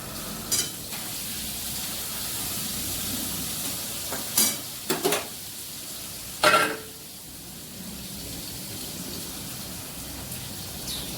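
Masala spices sizzle steadily in a pan during a vegetarian dish, with a few louder bursts of stirring scrapes scattered through the continuous frying.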